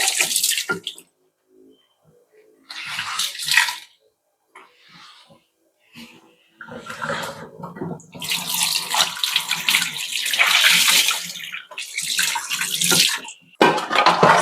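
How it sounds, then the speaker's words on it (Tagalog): Tap water runs into a frying pan to soak it, in bursts of rushing, splashing flow with short pauses between, close and fairly loud, no talking. "So, babad ko muna tong kawali kasi matigas siya."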